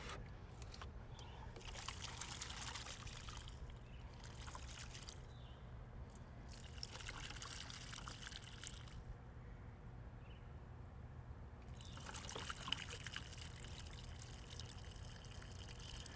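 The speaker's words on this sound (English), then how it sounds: "you're going to water from the top to saturate" Water poured from the top into a self-watering houseplant pot to saturate the soil and fill its reservoir, heard as soft, close trickling and splashing in bursts with brief pauses between them.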